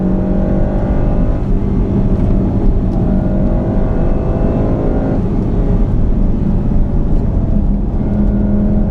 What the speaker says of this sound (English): Just like the STI, I'm using a lot of full throttle.